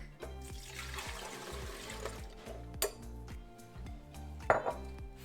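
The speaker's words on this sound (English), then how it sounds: "into my Ninja, we're going to put 2 2/3 cups of milk" Milk, 2 2/3 cups, pours steadily into a Ninja blender jar as a continuous liquid splash, with a couple of sharp clinks against the container near the end.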